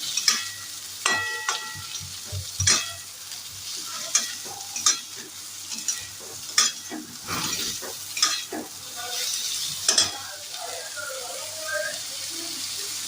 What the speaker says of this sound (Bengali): এখন এটা ভালো করে ফ্রাই করবো।